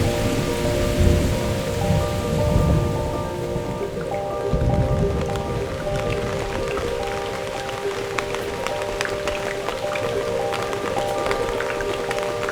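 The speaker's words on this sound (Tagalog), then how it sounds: "Normal talaga na uulan" Steady heavy rain pours down beside a highway at night, with low thunder rumbling early on and a faint tonal hum running underneath, no talking heard.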